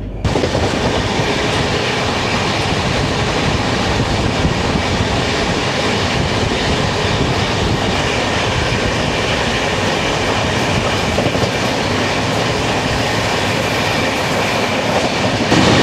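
Gaya to Howrah Vande Bharat Express train running on rails, a loud, continuous rushing rumble with faint rhythmic clatter, steady and close throughout with no talk.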